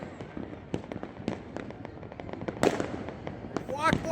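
Firecrackers burst all around during New Year's Day celebrations near a market, a rapid scatter of sharp pops near and far, with a louder crack late on and voices chattering underneath.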